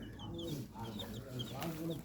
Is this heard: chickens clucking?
yes